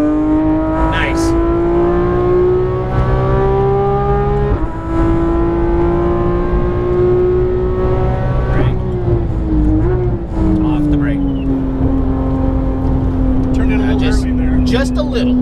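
A Porsche GT3 RS race car driven on a circuit, its engine droning loudly and steadily at high revs with pitch shifts as it brakes, turns and accelerates, while a voice talks over the engine.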